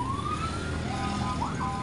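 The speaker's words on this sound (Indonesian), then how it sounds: "ambulan nih lewat belakang nih" An ambulance siren wails steadily from a hospital as it passes behind a roadside fish stall selling betta fish, moderately distant under street ambience.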